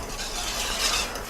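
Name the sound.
whisking BBQ sauce in a pot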